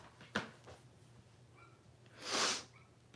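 A quiet room with a sharp nasal sniff early on, then a longer breathy, hissing sniffle.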